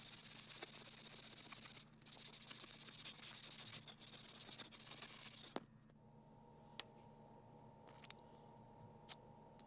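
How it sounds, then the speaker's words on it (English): Flexible 100-grit sandpaper rubbing on a file knife in fast, steady scratchy strokes for about five seconds, close and continuous, then stopping and leaving only faint taps and quiet handling. "100 grit flexible sandpaper."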